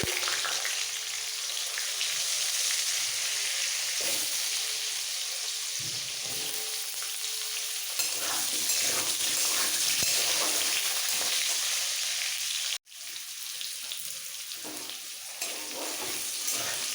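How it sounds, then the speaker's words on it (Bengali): Large chunks of potato sizzle in hot oil for a Bengali pea and potato pulao, a steady bubbling crackle with occasional stirring scrapes, briefly cut off near the end before resuming. "এবার এই তেলের মধ্যে দিয়ে দেবো আলু বড় বড় আলু"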